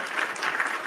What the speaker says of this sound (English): I'll give you a roaring round of applause on that one